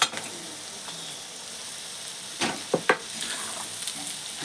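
Stale bhakri pieces frying in a pan with salt and red chilli, a steady sizzle stirred by hand, with a few sharp scrapes near the end.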